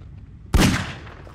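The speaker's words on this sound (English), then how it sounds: "Oh, I heard a gunshot." A single sharp gunshot in Garry's Mod Prop Hunt cracks out loud and close after a quiet stretch, with a booming burst that fades off over most of a second.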